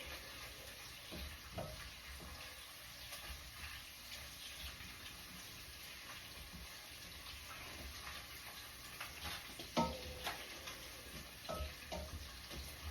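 Nigerian rice stew fries in oil in a pot and gets stirred, giving a steady low sizzle with occasional scraping and clinks, quiet and alone.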